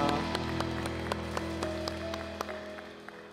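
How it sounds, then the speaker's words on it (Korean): A church congregation at a Sunday worship service claps in sparse, fairly regular beats over a sustained tonal backdrop, moderately loud and steady throughout. "하나님께 감사의 박수, 영광의 박수 올려드리겠습니다."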